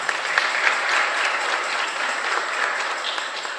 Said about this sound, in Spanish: Le damos también un caluroso aplauso.